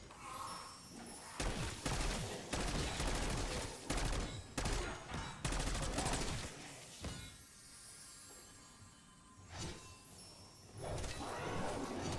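Black Ops 6 Zombies gameplay with bursts of rapid video-game gunfire and shattering impacts, loud and dense in the first half, then a quieter stretch before another burst near the end.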